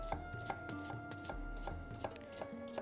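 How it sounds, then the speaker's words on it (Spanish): Onion being finely chopped with a knife on a board, a steady run of close, crisp blade taps at an even rhythm with no voices. "vamos a ir picando la cebollita,"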